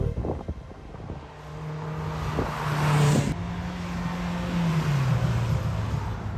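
A Polaris Slingshot three-wheeled roadster driving on city streets around San Francisco, its engine droning steadily with a rising and then falling pitch as it speeds up and slows, with road and wind noise around it.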